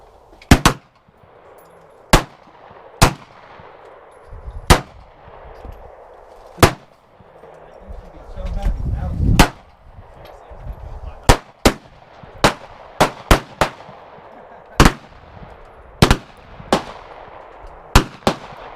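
Gunfire at an outdoor shooting range: a series of sharp, loud individual shots at irregular intervals, with quieter background noise and a brief rumble between them.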